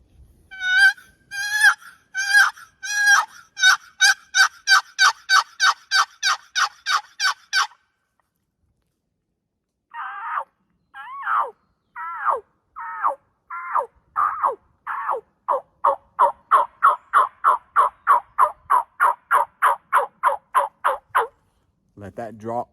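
Turkey yelps played on a box call come in two rapid, rhythmic runs of clear, loud, evenly spaced notes separated by a short pause, with no talking.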